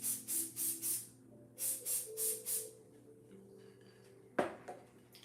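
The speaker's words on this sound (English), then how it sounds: "We're going to spray it now." A sprayer hisses over an aircraft wing in two groups of four short rhythmic bursts, followed by quieter background hum and a sharp knock near the end.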